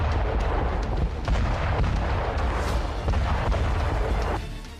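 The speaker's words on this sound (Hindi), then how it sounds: "अवदीवका में कोक प्लांट पर रूसी सेना ने जमकर रॉकेट बरसाए" Russian rocket strikes pound a coke plant in Avdiivka: a dense, continuous roar of distant blasts and rumbling booms, with scattered sharper bursts layered over a heavy low rumble, steady throughout and fading slightly at the end.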